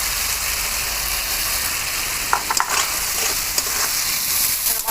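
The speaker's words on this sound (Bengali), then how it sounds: "মশলাটা একটু কষে নেবো।" Spices with ginger paste, cumin, chili powder, turmeric and a little tomato sizzle and fry steadily in a pan, a dense close hiss with a few brief stirring scrapes partway through.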